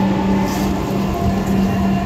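Inside a moving Dhaka metro rail train, a steady loud low rumble and hum of the carriage in motion, continuous and even with no talking.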